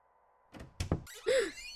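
A door opening in the horror game Anatomy: a couple of close thuds and a knock, then a creaking sweep as it swings, heard alone.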